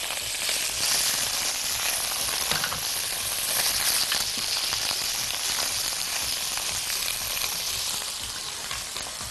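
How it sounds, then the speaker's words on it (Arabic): Sausage with a cube of butter sautéing in a frying pan, a dense, steady sizzle that holds loud and even throughout with no talking. "وننزل السجق بقى عشان يتشوح"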